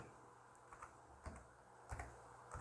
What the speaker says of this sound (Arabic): وبعدين نكتب كلمة ادورد